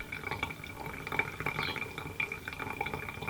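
Water from a Hario V60 Buono kettle pours steadily into a Chemex in a gentle, continuous trickle, a soft liquid splash with faint drips, close and unaccompanied by speech.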